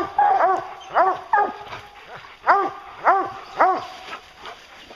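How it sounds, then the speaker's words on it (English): Several hunting hounds bay and bark at a treed bear in repeated, rhythmic bursts, their voices close and loud with short pauses between each howl. "Good dogs, good dogs."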